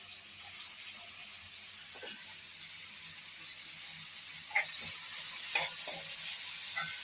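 Onions and chopped tomatoes sautéing in a pan for pav bhaji give a steady soft sizzle, with a few faint clinks of a spoon near the end and no talking.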